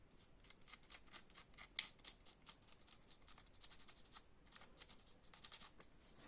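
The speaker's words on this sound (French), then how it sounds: "Un petit coup de papier de verre." Short repeated scraping strokes of sandpaper on a small plastic miniature part, quiet and close, in an irregular back-and-forth rhythm with occasional sharper rasps.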